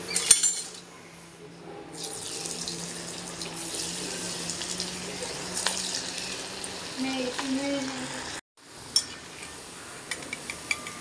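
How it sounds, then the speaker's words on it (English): Alu vadi (patra) pieces deep frying in oil give a continuous close hiss and bubbling, with a short break near the end followed by a few light clinks. "Now I'm going to deep fry this."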